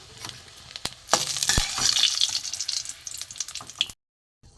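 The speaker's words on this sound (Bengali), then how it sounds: "কিছুটা আমি সর্ষের তেলে আবার দিয়েছি, দিয়ে আমি রসুন কুচি দিয়ে দিলাম, টমেটো কুচি" Chopped garlic and tomato hit hot mustard oil with a loud, bright sizzle and a few stirring scrapes, continuing for several seconds before cutting off abruptly into silence.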